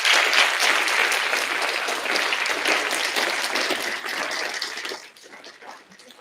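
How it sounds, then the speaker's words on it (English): An audience in a school building at a distinguished alumni ceremony applauds its educators. A dense, loud wash of clapping holds steady, then thins and fades over the final second or so. "So right now, I'd like you please give a round of applause to your educators in this building."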